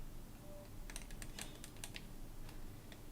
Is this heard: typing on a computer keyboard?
yes